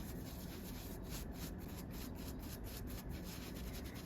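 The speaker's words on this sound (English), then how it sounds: "give it a good scrub" Close, continuous scrubbing of a fabric couch stain with a baking soda solution, a steady rough rubbing texture that keeps a brisk back-and-forth rhythm throughout.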